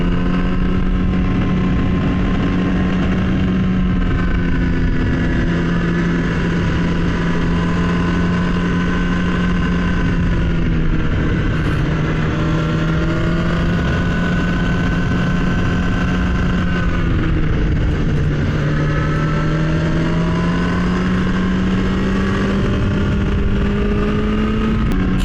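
Kawasaki ZX-10R sport motorcycle engine pulls steadily up a big hill, a loud continuous drone whose pitch rises and dips with throttle changes, no talking.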